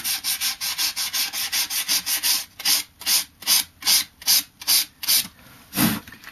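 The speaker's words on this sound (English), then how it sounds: "This is a 240 grit, just with a bit of light pressure." Hand sanding of charred wood with 240 grit sandpaper under light pressure: a close, loud series of rhythmic back-and-forth rasping strokes, fast and even at first, then slower with distinct gaps between strokes.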